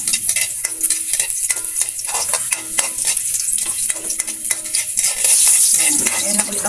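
Chopped ginger sizzles in hot oil in a pan as it is stirred, a steady loud frying hiss with repeated scraping strokes of a spatula throughout, no talk.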